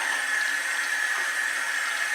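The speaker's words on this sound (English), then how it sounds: "Just do a quick wash. Some cold water" Cold tap water runs in a steady hiss while food is rinsed for stuffed shells, close and even for a couple of seconds.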